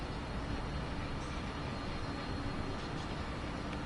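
Freight train rolling on Sherman Hill in Train Sim World 2, a steady low rumble and hiss of wheels on rail, constant and even throughout without any break.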